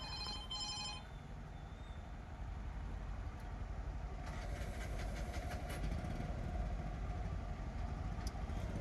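Rail traffic at Yeshwantpur railway station in Bangalore: a steady engine rumble with an idling hum throughout, and a bell-like ringing early on and again in the middle. No one speaks.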